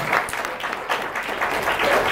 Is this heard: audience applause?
yes